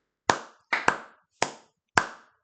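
Five sharp hand claps, one pair close together then three spaced apart, close and fairly loud in a quiet room, for a fantasy football league show.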